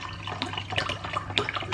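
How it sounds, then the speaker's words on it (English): Liquid splashing and gurgling as wine is poured heavily into a glass, a short close pour with bubbly, uneven trickling. "We're gonna do a heavy pour."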